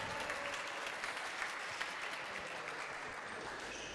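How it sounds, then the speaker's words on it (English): Spectators at the ESF European Individual Closed Squash Championships applaud a long rally. Steady, dense clapping holds for several seconds at moderate distance, with no voices over it. "Crowd appreciating that one."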